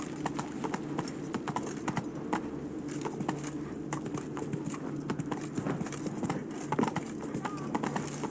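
Roach the horse from The Witcher 3 gallops in steady, close hoofbeats, rolling clip-clop over a low ambient bed with faint jingling tack throughout.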